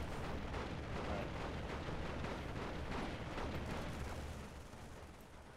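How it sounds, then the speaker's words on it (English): Dense, continuous gunfire and explosions in the video game Undead Assault Chronicles roar together in a loud, unbroken wall of battle noise that eases slightly near the end. "just so that the constant gunfire is a little bit less loud."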